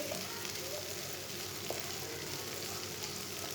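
Okra and white chickpea curry frying in a pan, giving a steady, even sizzle that holds at the same level throughout, close by, with no voices.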